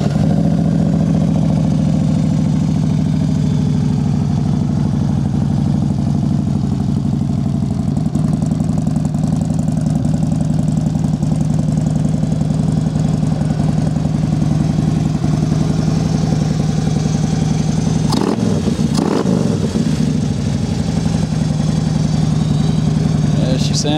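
A Harley-Davidson Street Glide FLHX motorcycle idles steadily up close, a loud, deep, continuous engine rumble that holds throughout with a brief disturbance near the end.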